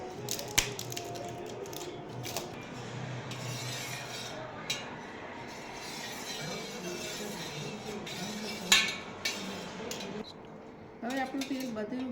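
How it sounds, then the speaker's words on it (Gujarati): A spoon clinks and scrapes inside a bowl while homemade herbal hair oil is stirred, giving a run of light metallic taps and swirls at close range. A few louder knocks land near the end. "અને પછી બરાબર મિક્સ કરી દઈશું."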